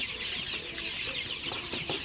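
Sonali super hybrid chickens cluck softly at night in a poultry house, a steady low murmur of overlapping hen calls with no talk.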